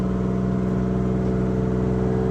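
A 1973 American LaFrance Pioneer fire truck engine runs loud and steady close by, a deep, even mechanical drone with strong low harmonics, without talking.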